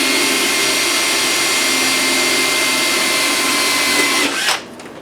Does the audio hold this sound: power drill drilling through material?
yes